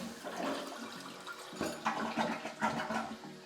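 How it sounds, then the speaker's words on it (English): A toilet flushes right after its fill valve has been replaced, with a rushing swirl of water followed by the tank refilling, loud and close with surging bursts and no talk. "Now give the toilet a flush"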